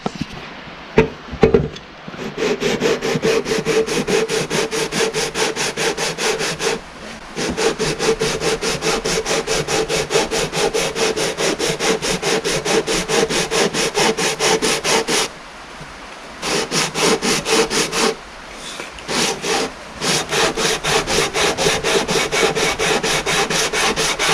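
A hand plane's sole is rubbed back and forth on sandpaper laid over a level, producing loud, steady rasping strokes in a continuous rhythm, with a few brief pauses.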